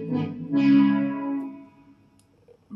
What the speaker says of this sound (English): So there it is, here's my brass sound.